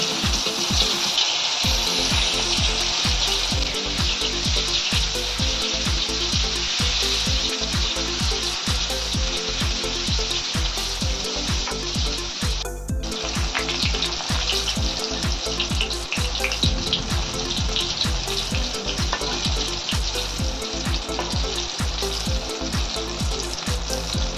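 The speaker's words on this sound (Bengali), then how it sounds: "তেলে ধোকাগুলো ছাড়া ছাড়া করে ভাজতে হবে" Dhoka lentil cakes fry in hot oil for a banana-flower mocha dalna, giving a loud, steady crackling sizzle that runs unbroken close by, with no talking.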